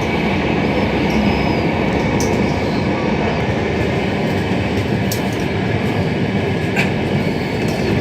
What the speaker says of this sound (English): Some station is coming, and the train is getting slower.